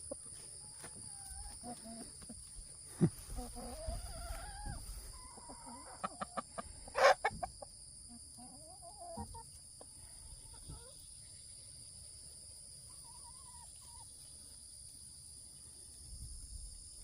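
Soft, scattered clucking from a few chickens in a quiet outdoor setting, with a steady insect hum and occasional brief knocks and rustles.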